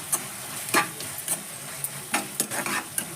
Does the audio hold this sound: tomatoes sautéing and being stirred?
yes